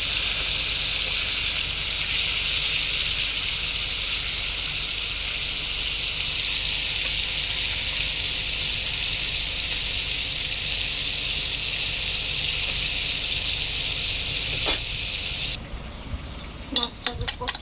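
Flipped coated salmon frying in hot oil gives a strong, even hiss that holds steady, then cuts off abruptly near the end, followed by a few sharp clicks and knocks.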